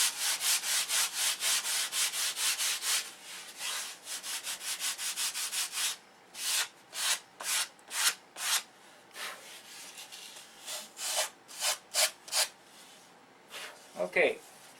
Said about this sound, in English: Sand it a little bit.